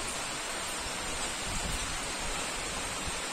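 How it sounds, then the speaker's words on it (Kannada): Heavy rain pours outside a farmer's house, a steady broadband hiss and patter that holds at an even level throughout, with no voices. "ಮಳಿ ಅಂತೂ ಬಹಳ ಜೋರಾಗಿ ಹೊಂಟದ ನೋಡ್ರಿ ಹೊರಗ"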